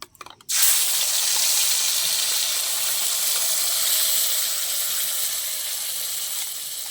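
Ground spice paste dropped into hot oil in a kadai for mutton kosa, bursting after a brief clatter into a loud, steady hiss that fades slightly toward the end, close up and without speech.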